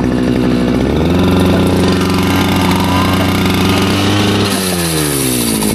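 A small engine just fixed with a new spark plug chugs along at low revs, steady and close, smoking heavily, then its pitch sags and the sound changes near the end as it stalls.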